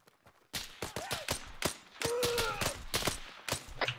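Rapid volleys of rifle fire from several shooters in the video game Arma 3, sharp cracks bunched close together, with brief faint voices in between.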